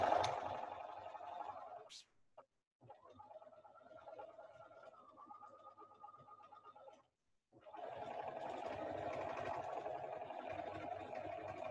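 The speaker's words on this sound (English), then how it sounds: "I'm keeping the inside edge of the toe on my machine right along that line to stitch" A home sewing machine stitches quilted fabric 1/8 inch inside rounded edges, a steady mid-pitched mechanical whir running about five seconds between stretches of louder broadband rustling and handling noise.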